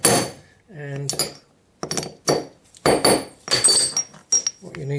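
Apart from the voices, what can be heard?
hammer striking a bezel block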